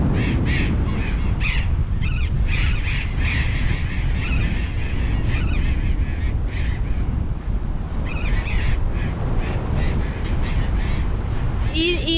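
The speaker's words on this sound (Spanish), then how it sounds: "Esta es la comunidad más grande del planeta, del mundo, de loros barranqueros." Burrowing parrots call from a huge cliff colony on a beach at El Cóndor, Río Negro, with dense overlapping harsh squawks repeating throughout over a strong low roar of wind or surf.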